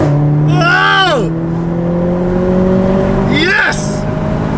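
A Renault Clio MK4 RS accelerates hard, its engine note climbing through the gears in loud sweeps close by, with people shouting and exclaiming over it.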